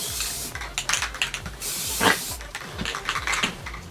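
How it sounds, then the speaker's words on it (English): Spray paint can hissing in repeated short bursts and sweeps while coating an old chair being restored, close and fairly loud, with a brief louder blast midway and no talking. "don't ever stop moving the can, because that's how you get splotches and buildup on what you're spraying"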